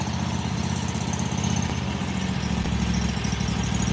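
A Harbor Freight Predator V-twin engine idles at low speed, a steady, even, low rumble that stays fairly quiet and close throughout with no voices.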